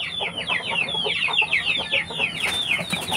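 Native chickens and roosters in a farmyard squabble at close range, giving rapid, agitated clucks and squawks that keep overlapping.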